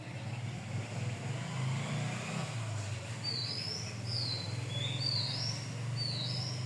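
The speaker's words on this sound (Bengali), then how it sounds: "কিচিমিচি ডাকতেছে।" Newly acquired ducklings at home give a few high, thin chirps in short bursts midway through, small and fairly faint over a constant low rumble of road traffic and motor noise.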